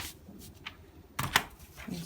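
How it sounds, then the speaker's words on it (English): Scissors cutting a paper sewing pattern for a simple kids top, giving soft snips and paper rustles, briefly louder near the end. "So I'll cut it out now."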